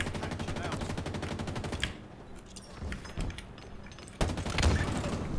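Weapon fire in the video game Halo Infinite during a multiplayer match: a rapid automatic burst rattling loudly for about two seconds, a quieter gap with a few scattered shots, then heavy firing resumes.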